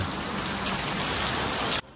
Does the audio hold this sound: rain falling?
yes